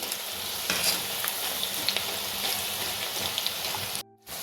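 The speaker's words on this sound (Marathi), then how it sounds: "आपल्याला छान असं ब्राऊन खरपूस तळून घ्यायच्यात ह्या." Cheese shankarpali frying in hot oil, a dense, steady close crackle and sizzle with light stirring, briefly cutting out near the end.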